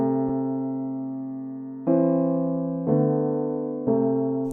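Piano intro for an Afro remix: sustained chords struck four times, the first ringing long before the next three come in about a second apart, clear and alone with no talk.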